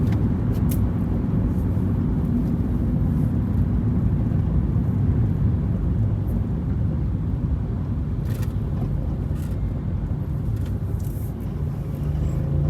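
Steady road traffic noise heard from inside a moving vehicle in Dubai: a continuous low rumble of engines and tires, with occasional faint clicks and no speech.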